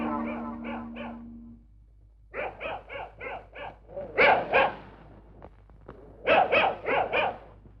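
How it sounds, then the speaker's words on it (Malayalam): Several dogs barking at night, short clusters of barks and yips coming in bursts from a moderate distance with quiet pauses between them. "പട്ടിയുടെ ധർമ്മം കുറയ്ക്കുക എന്നുള്ളതാണ്."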